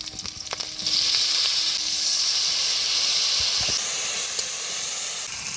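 Whole cumin, five-spice seeds and green chili sizzle loudly in hot oil, a sudden bright hiss that bursts in after a second and holds steady, close and alone, easing slightly near the end.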